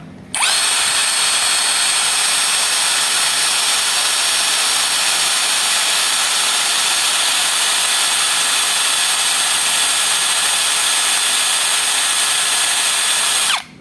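A cordless battery drill runs at low speed, about 396 RPM, producing a steady high-pitched motor whine with a whirring buzz that starts abruptly, holds constant and loud for over ten seconds, then stops cleanly.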